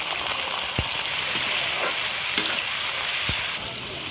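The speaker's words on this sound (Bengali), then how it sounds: "ফুলকপিগুলো ভেজে নেব" Steady, close sizzle of cauliflower frying in oil, with a few soft stirring clinks scattered through.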